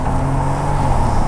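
A Bentley Continental GT engine pulls hard in second gear, a loud, deep, steady rumble heard close up without speech.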